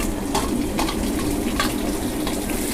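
Onions sauté in a hot pan with a steady, close sizzle and a few soft stirring scrapes throughout.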